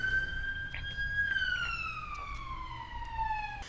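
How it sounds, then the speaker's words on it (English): A wailing emergency siren sweeps steadily downward in pitch, loud and close, with no one speaking. "We'll just wait for the ambulance."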